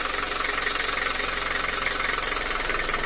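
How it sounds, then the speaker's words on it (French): A labouring engine with its power take-off just engaged, close to stalling, gives a loud, steady low rumble with a rapid rhythmic knock throughout, and no talking. "vous entendez que le moteur est prêt de caler"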